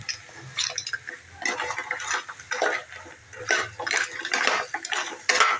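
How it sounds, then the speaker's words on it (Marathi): Whole crabs tumble into masala in a pan for a Konkan-style crab curry, giving a run of irregular clattering, scraping and wet sizzling bursts close by, with no talking. "ह्याच्यामध्ये आता आपण खेकडे टाकून घेऊया"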